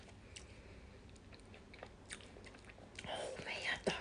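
Crunchy dark chocolate being bitten and chewed close to the mic in an ASMR setting, with scattered soft crisp crunches early on and a louder, denser burst of chewing near the end over faint background hiss.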